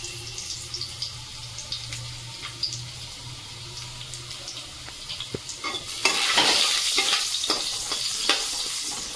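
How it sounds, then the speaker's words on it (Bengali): Potatoes fry in a pan with salt and turmeric, a continuous low sizzle punctuated by stirring scrapes that jumps into a louder, brighter crackle partway through, with no talk. "তো আলুটা আমি একটু ভেজে নেব।"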